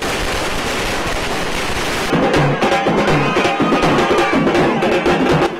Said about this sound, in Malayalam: പടക്കങ്ങൾ പൊട്ടിച്ച് ആഘോഷം തുടങ്ങുകയും ചെയ്തു